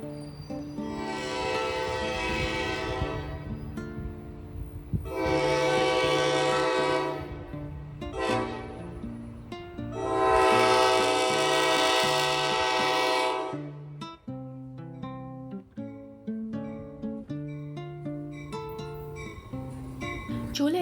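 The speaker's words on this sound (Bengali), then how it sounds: "চলে এসেছে আমাদের ট্রেন।" A train pulls into a New York station with long, loud, tonal horn blasts repeated three times, then shorter clipped tones and rail noise as it comes to a stop.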